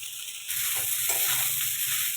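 Poha with peanuts and a little fresh coriander sautéed and stirred in a hot pan, a steady close sizzle that swells after a brief quiet start and continues unbroken.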